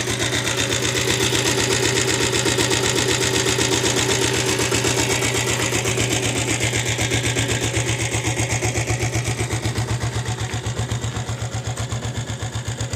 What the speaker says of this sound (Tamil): வண்டி இன்ஜின் நல்லா இருக்குது. இன்ஜின் கண்டிஷன் கேளுங்க.